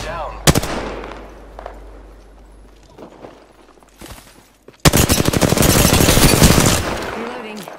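Gunfire in Apex Legends on PS4 Pro: a few sharp shots early, then from the midpoint a loud, dense burst of rapid automatic fire, with scattered game sounds in between.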